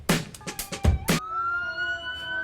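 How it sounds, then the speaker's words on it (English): Police and fire vehicle sirens sound at the start of a Mardi Gras parade: a few sharp loud blasts, then a sustained wailing tone that holds steady and loud. "They got the sirens going very loud and everything right now."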